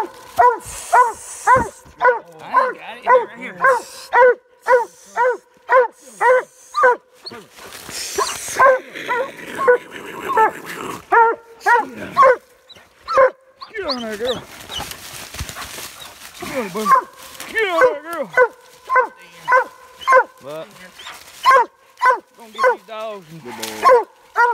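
Hunting dogs bark during a raccoon hunt in Kentucky woods near a den tree, with repeated loud, rhythmic barking bursts and yips close by while people talk and call to the dogs between them.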